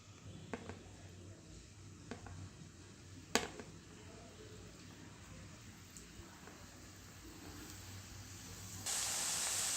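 Pieces of maida dough slipping into well-heated oil in a kadai, a low steady background first, then a loud, bright sizzle that rises abruptly near the end and holds.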